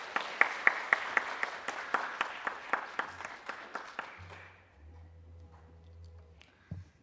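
An audience at a children and youth council opening ceremony in Gwangju claps in a fast, even rhythm. The crisp claps gradually fade and stop about four seconds in, leaving low room noise.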